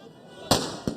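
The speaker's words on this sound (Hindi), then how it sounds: "यहां पर देखिए जो शिव सैनिक है वो पटाखे फोड़ रहे हैं" Firecrackers burst by Shiv Sainiks at a street political gathering give two sharp, close cracks about a third of a second apart over a steady background hum.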